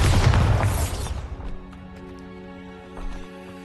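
The Bombarda blasting spell goes off in Hogwarts Legacy as a loud, dense burst of impact that decays within about a second, leaving sustained musical tones and a smaller thud afterward.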